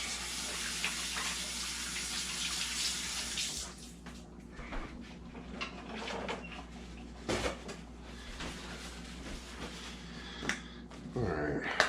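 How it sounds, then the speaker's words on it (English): Hands rinsed under a running kitchen tap before preparing pulled pork, a steady hiss of flowing water for several seconds that stops, followed by quieter clatter and small knocks. "Rinse my hands real fast."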